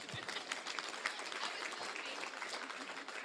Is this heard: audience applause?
yes